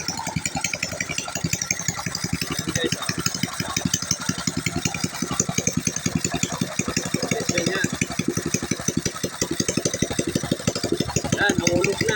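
A Sumo 7.5 engine fitted with a converted TMX155 carburetor and no exhaust runs loud and raw, with rapid, rough, uneven firing pulses throughout, close by, with someone talking over it at times.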